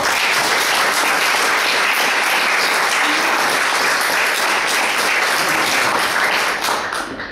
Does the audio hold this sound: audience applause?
yes